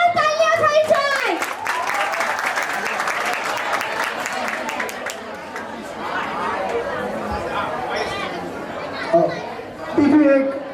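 An audience at a school institute's annual function claps and chatters together, a dense spread of handclaps mixed with crowd voices and children's talk, fading into general murmur with a brief louder burst near the end.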